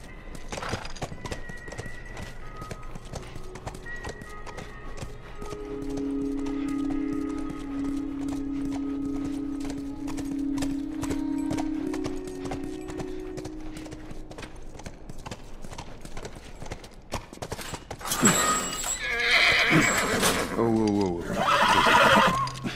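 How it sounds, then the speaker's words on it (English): A horse in The Last of Us Remastered clip-clops at a steady walking pace, the hoofbeats running throughout, with a whinny, while voices talk near the end. "Stay with the horse."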